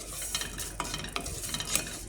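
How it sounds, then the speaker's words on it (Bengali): Cumin seeds crackle in a little hot oil with salt for a lentil dal tempering, a continuous close sizzle broken by repeated light clicks and scrapes of stirring. "দেখো আমি কি রান্না করে এখানে দিয়ে দিতেছি জিরা ফোড়ন"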